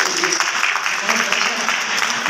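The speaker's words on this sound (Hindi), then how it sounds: "ताली बजाओ खालिद भाई के लिए" Audience applause for Khalid Bhai at a Tonk district Congress committee gathering, a steady dense wash of clapping that holds loud and even throughout, with voices mixed into the crowd noise.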